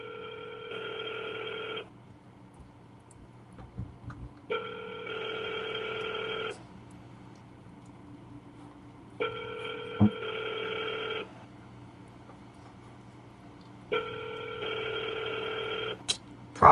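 Telephone ringing on an unanswered call, four long electronic double-tone rings repeating at steady intervals with quiet gaps between, fairly close and alone without voices.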